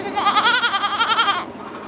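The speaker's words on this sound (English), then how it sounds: "A lot of these goats look like Trinity" Goats bleating at an auction barn: a single loud, close, wavering bleat that lasts over a second and then trails off into low background noise.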